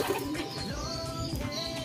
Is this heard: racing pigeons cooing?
yes